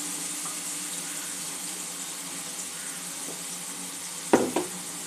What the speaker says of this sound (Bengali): সামান্য একটু জল দিয়ে দেবো।